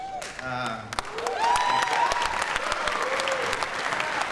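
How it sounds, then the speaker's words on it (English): Audience at a high school veterans concert breaking into full applause that swells and holds steady, with a voice speaking at the start and cheers rising through the clapping. "let's give a round of applause"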